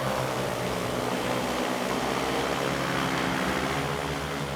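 Agricultural drone sowing oat seeds over a field planted with corn, its rotors giving a loud, steady whine and drone that holds constant throughout at close range.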